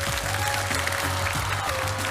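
Applause from an audience at a rod challenge, a steady wash of clapping held under a low, constant hum, fairly close and unbroken.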